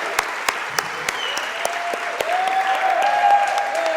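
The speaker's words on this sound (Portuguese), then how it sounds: "Pode aplaudir ao Senhor por isso?" A church congregation claps steadily for about four seconds, the applause growing a little fuller toward the end, with a faint sustained tone rising underneath.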